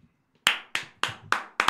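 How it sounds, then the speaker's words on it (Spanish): Several sharp hand claps ring out in a radio studio, five or six loud, evenly spaced claps following a short silence, with no talk. "Es el aplauso que le damos al señor Diego Cariolo."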